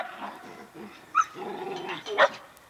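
Two dogs play together in a fenced yard, growling low and rough with a couple of sharp yips or barks breaking through, fairly close and with no talking.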